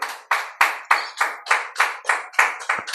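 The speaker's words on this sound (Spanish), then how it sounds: "Den un aplauso al que vive en esta tarde, aleluya." A church congregation claps in unison during a Spanish-language service, about nine sharp, evenly spaced claps in a steady rhythm, close and loud with no talk over them.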